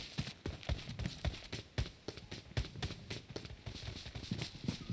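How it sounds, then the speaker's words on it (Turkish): Footsteps thump in quick irregular succession in a PUBG Mobile match, close and fairly loud, like running feet over a hard surface, with no talk over them. "Ayak sesi var."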